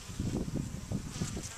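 Honeybees fly in to an Italian hive, giving a close, continuous low buzzing drone that wavers in loudness as individual insects pass.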